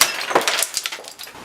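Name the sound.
candy glass shattered by an air ram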